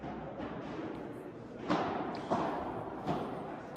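A padel ball is struck with a racket during a P1000 match, giving three sharp, hollow thwacks spaced about a second apart over a steady murmur of court ambience.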